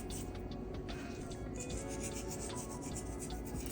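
Hands rubbing salt seasoning onto cheap cut of meat, a close, continuous scratchy rasping with brief repeated strokes, steady throughout with no voices.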